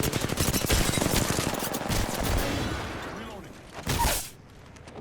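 Automatic weapon fire in Apex Legends rattles in a dense, rapid burst for about two seconds, then quieter scattered shots and a final loud short burst near the end.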